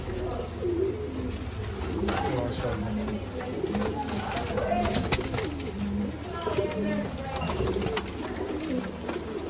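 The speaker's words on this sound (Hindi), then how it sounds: "ये टोटल कबूतर है माशाल्लाह।" Pigeons cooing softly and repeatedly in the background while someone talks over them in a close, busy pigeon sale setting in Sialkot.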